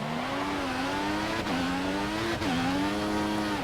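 Tyres locking up under braking in the F1 2014 racing game at the Singapore Grand Prix, heard as a steady high engine whine that dips and shifts pitch twice as the car slows, with no voices.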